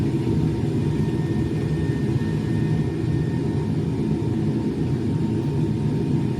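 A Philippine Airlines airliner taking off from Manila, a steady deep roar of jet engines with a broad rumble, heard continuously and fairly loud without voices.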